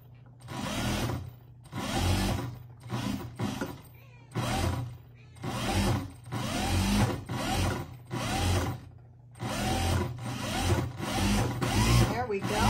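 A sewing machine stitches around polar fleece mitten pieces in repeated short whirring bursts with brief pauses between them, heard close up and fairly quiet.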